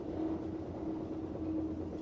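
Steady low rumble of a train at a station, continuous and moderately loud with a faint tonal hum, no voices over it.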